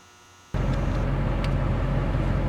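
A 2002 Chevy dually pickup on a test drive after a front wheel bearing replacement, its cab interior quiet at first, then a steady, loud broadband road and engine rumble that holds constant throughout.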